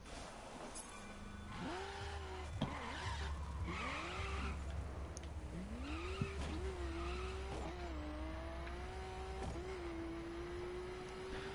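A car in a video game drives a short distance, its engine repeatedly revving up and shifting through gears with rising whines, brief tire squeals and skids, moderately loud and steady throughout with no talking.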